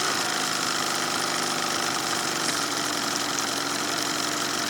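A small pull-start motor idles steadily on its own at a fishing outing, a continuous close, fairly loud mechanical drone with a faint knocking rattle, run without choke just after starting.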